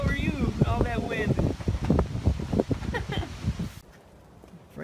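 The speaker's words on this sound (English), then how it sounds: "all that wind" Wind buffets a microphone outdoors, a broad rushing roar through most of the stretch under children's and adults' chatter, dropping away near the end.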